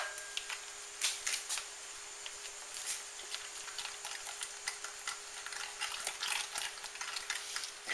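A spoon stirring a ketchup and brown sugar glaze in a bowl, giving soft repeated scraping and clicking strokes, quiet and close, with no talking.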